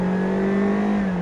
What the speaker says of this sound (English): we're gonna accelerate, and you can hear the motor on acceleration.